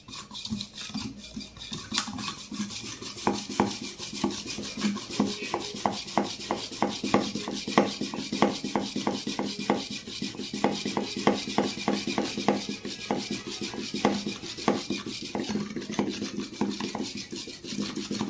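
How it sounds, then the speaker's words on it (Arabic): A whisk beats Nescafe coffee with sugar in a cup, a fast, steady rhythmic scraping and clicking that continues throughout at moderate, close volume. "وهبدا انزل بمضرب النسكافيه ده"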